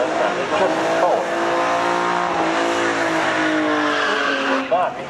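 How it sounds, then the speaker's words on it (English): A turbocharged Audi S4 drag car pulls hard down the strip, its engine note climbing loudly and steadily through the gears with a brief tire chirp near the start; voices are heard faintly beneath. "keep an eye on an Audi pulling into the main on the left side"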